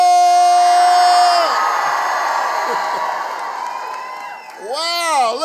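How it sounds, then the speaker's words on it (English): A big political rally crowd in Georgia cheers and whoops loudly. Shouting voices sit near the front, ease off slightly midway, then rise again in a fresh burst of yells. "Wow, look at this crowd."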